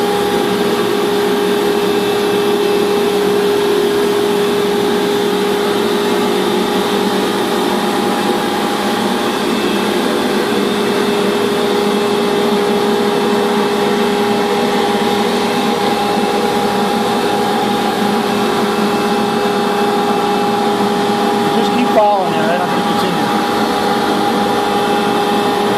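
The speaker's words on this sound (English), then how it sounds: "And begin your heat weld." A banner heat welder runs steadily while welding a hem in banner material, a loud, constant whirring hum with a tonal whine that holds unchanged, with one brief click near the end.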